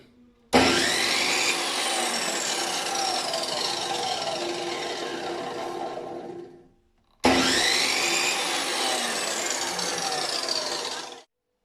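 A metal cut-off mitre saw without a soft start whirs up abruptly to full speed twice, each loud run holding steady for several seconds before spinning down, with no voices.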